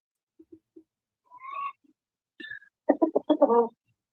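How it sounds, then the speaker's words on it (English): Chickens clucking softly at a distance: a few faint isolated clucks and calls, then a brief cluster of louder rapid clucking notes near the end, with quiet gaps between. "I hear the chickens."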